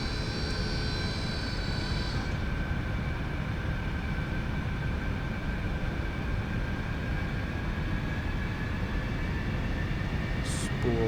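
Aerobask Eclipse 550 twin jet engines spooling up in the X-Plane flight simulator, a steady dense roar with a thin high whine that fades early, continuous and loud throughout.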